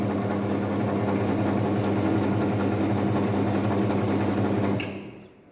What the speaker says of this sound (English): Now when we are operating this DC motor, we can start the motor like this.